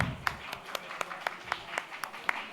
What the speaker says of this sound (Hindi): सर के लिए भी जोरदार तालियां